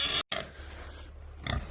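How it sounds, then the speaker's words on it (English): Excited pigs squeal and grunt close by in a farm pen over fresh green hay, a loud continuous burst with a brief break and a second rise near the end. "as you can hear, these pigs are going ballistic over here"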